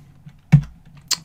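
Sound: typing a command on a computer keyboard

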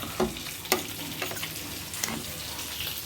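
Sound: stirring curry after adding salt and tamarind

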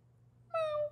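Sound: voice imitating a cat meow

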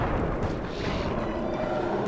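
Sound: fireworks exploding in the video game Sly 3

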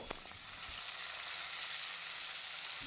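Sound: tomato, ginger and green chilli frying on medium flame

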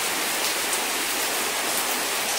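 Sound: rain falling on Friday in Makkah

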